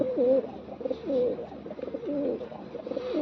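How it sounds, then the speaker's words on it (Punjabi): Soft, repeated pigeon coos roll in a steady rhythm, close and fairly quiet, with no talking. "ਵੱਡੀ ਕਬੂਤਰੀ ਆ"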